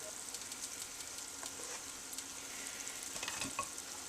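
Butter simmering in a pot while being cooked down for canning gives a steady, moderate sizzling bubble with small crackles and pops throughout, no voices.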